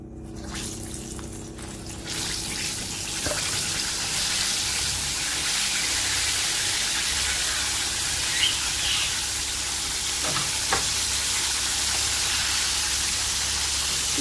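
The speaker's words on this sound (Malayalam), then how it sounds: "നമുക്ക് ഒന്നുകൂടി ഇത് ഫ്രൈ ചെയ്തെടുക്കാം" Chicken legs for Korean fried chicken deep-frying in hot oil during a second fry toward golden brown, giving a loud, steady, close sizzling hiss for the whole stretch, with a few faint pops and crackles and no talking.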